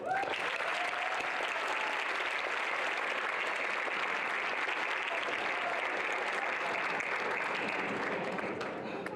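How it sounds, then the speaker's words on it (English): Steady applause from an audience at a nursing pinning and achievement ceremony, honoring staff and faculty, a continuous dense patter of many hands at moderate volume, with faint voices mixed in beneath. "So if everyone can please join me in giving them a round of applause."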